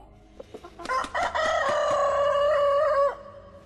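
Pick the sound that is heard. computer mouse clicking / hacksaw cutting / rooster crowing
rooster crowing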